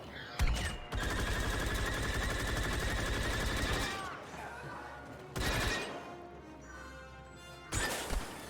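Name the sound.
gunfire in Star Wars Battlefront II video game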